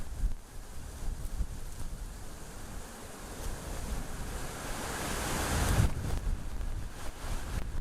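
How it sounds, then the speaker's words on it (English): Gusty, warm wind blows outdoors and buffets the microphone, giving a constant roaring rush that swells louder toward the end. No speech is heard. "If not a little bit gusty, I don't know why the wind is getting me so much here"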